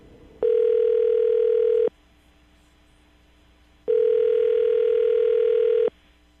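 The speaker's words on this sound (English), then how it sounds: "I'm going to dial the phone number right now, get him on the phone" Two loud, steady telephone tones, each lasting about a second and a half, separated by a pause of silence on the line.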